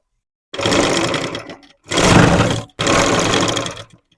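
A sewing machine stitches a petticoat, running in three loud, steady bursts with short pauses between, close up and with no talk.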